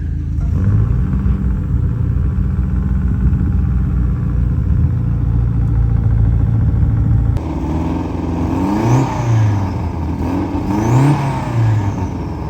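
A Saab 900 engine idles loudly at close range, a steady low rumble and whir that shifts partway through into wavering revs as the car starts moving, its tone rising and falling.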